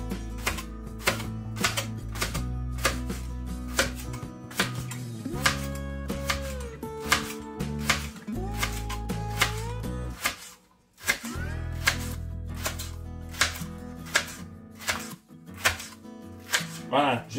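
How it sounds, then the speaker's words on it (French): A knife chops a leek into chunks on a cutting board, a steady run of crisp close knocks with a short pause midway, while someone speaks in French throughout. "je le coupe par le milieu,"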